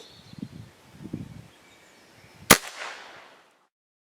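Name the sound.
Kral Arms Puncher Mega air rifle shot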